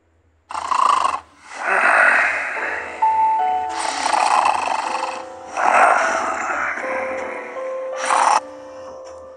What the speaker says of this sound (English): Oh my god, he snores so long.